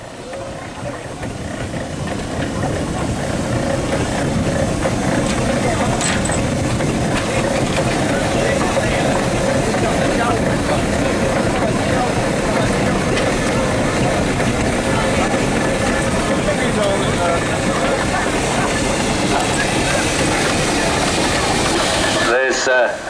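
A steam traction engine chuffs steadily and loudly as it leaves a rally arena, a continuous dense rumble with rhythmic mechanical beats, and someone talks over it.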